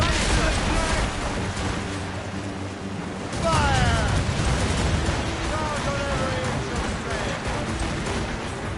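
Ship cannons firing in a video game naval battle, a heavy booming broadside rolling into rumbling blasts amid ocean noise, loud and close, with shouted voices over the din.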